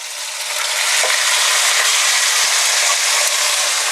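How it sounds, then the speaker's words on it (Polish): Pork neck sears in a hot pot for Hungarian goulash with a loud, steady sizzle, close up, with a few soft scrapes and no talking. "Rzucam naszą karkówkę, którą będziemy musieli obsmażyć."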